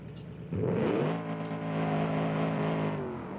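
A classic dragster of about 800 horsepower launches in BeamNG.drive, its engine suddenly roaring up from a quiet idle into a loud, sustained, rising rev with a steady harmonic drone, held close and strong throughout.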